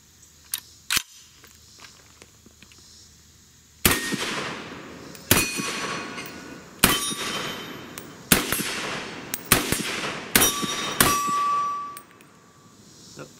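A Ruger Mini 30 rifle fires hand-loaded cast 123-grain bullets over IMR 4195 powder in new Starline brass. About ten sharp, loud reports ring out at irregular intervals with ringing tails, two early shots followed by a quicker cluster.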